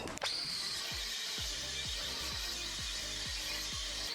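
A flapper disc on a cordless grinder with a tired battery sands a trailer deck, a steady loud abrasive whir with a repeating rhythmic thump about twice a second throughout.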